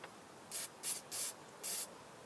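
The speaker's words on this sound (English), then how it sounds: "Spraying that hose." A spray can hissing onto a whipper snipper carburettor in four short close bursts, each about a quarter second long, with quiet pauses between them.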